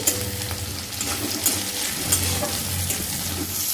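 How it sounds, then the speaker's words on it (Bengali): Chopped tomatoes with a pinch of salt fry alongside browned onions in a pan, giving a close, continuous sizzle broken by regular stirring scrapes. "পেঁয়াজটা ভাজা হয়ে গেছে, এবার আমি এর মধ্যে দিয়ে দেব কেটে রাখা টমেটোগুলো।"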